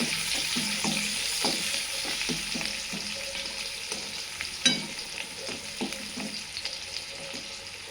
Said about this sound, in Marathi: त्यासोबतच हिरवी मिरची हे व्यवस्थित परतून घ्यायचं आहे